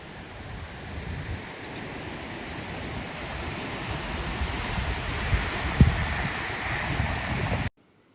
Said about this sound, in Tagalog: maganda siya for surfing kasi malakas yung alon dito.